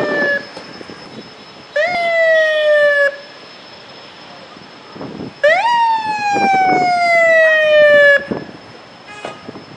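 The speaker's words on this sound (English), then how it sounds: "We can hear some sirens in the background." Two long wailing emergency vehicle siren bursts with falling harmonic tones sound at a moderate distance during an outdoor parade, separated by quieter outdoor background noise.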